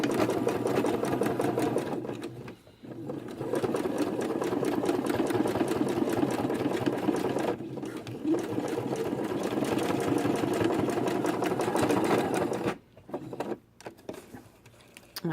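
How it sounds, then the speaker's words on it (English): Steady rapid mechanical whirring of a sewing machine stitching fursuit costume claws, running continuously with two brief pauses, close and fairly loud. "And start sewing."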